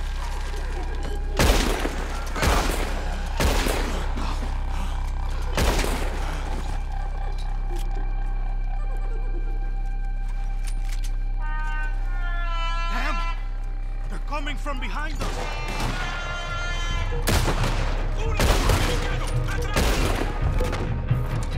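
Gunfire in the Red Dead Redemption 2 game during a Guarma chapter escape, with several sharp loud shots spaced through the scene over music and voiced dialogue.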